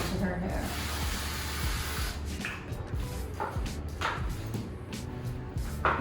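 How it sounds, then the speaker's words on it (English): Short hissing bursts from a can of root spray sprayed over hair extensions, several quick sprays in a row over a low background hum. "I'm going to take a root spray and I'm going to just spray over the tracks"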